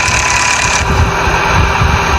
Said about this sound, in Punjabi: ਟਰੈਕਟਰ ਬੰਦ ਨਹੀਂ ਹੋਇਆ